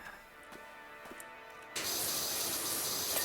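Pressure washer in PowerWash Simulator switching on after soft ticks and quiet ambience, then a steady, loud, broad hiss of spraying water that runs without a break.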